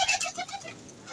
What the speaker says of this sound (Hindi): ये कबूतरी दोबारा अंडे दे रही है लगता है